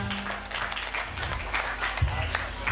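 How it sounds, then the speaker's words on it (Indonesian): Audience clapping at a children's speech competition at an Islamic school celebration, a short burst of applause mixed with crowd chatter and voices, moderately distant. "Tepuk tangan yang meriah"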